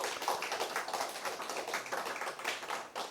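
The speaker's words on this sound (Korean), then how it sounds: "박수 한번" A church congregation at a Sunday service in Daejeon claps together for the young people: a soft, continuous patter of many hands, fairly distant and steady throughout.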